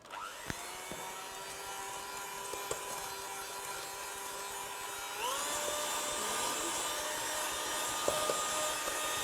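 Electric mixer mixing cookie dough, a steady whining motor hum that steps up in pitch and loudness partway through, with small clicks and knocks from the bowl.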